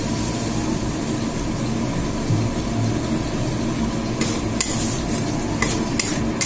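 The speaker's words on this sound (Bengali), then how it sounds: "এটাকে একটুখানি জল দেব, দিয়ে আগে কষাবো।" Pumpkin kofta curry masala paste with a little water being stirred and fried in a pan, a constant close sizzle under repeated scraping strokes, with a few sharper clinks near the end.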